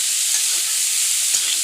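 Broad bean seeds fry in a pan with a steady, close hiss of sizzling oil, a faint stirring scrape breaking in once near the end.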